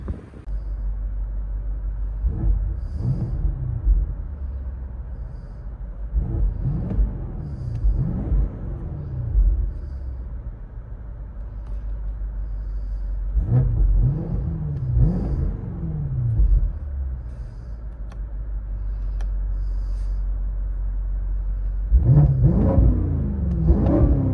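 Heavily modified 900hp BMW X6 M Competition with downpipes, Vibrant resonators and open exhaust valves, heard from inside the cabin: a steady low engine drone with several loud revving surges that rise and fall, and a final rev near the end.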